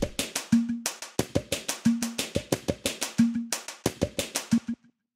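A short beat played on a drum kit of bottle-popping samples, a steady fast pattern of crisp pops with a recurring hollow tonal hit on the offbeats, close and dry, stopping abruptly.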